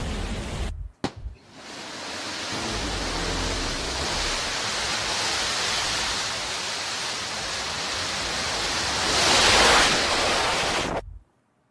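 Blue Origin New Shepard rocket lifting off from its launch pad in Texas, a steady broadband roar that holds for about ten seconds, swells briefly near the end, then cuts off abruptly.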